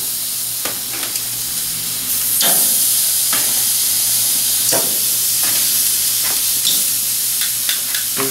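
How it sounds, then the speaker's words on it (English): Chicken searing on the hot side of a grill, a loud continuous sizzle and hiss with periodic sharp bursts as it hits the heat, no one speaking. "I'm going to touch it over here to the hot side just for a second."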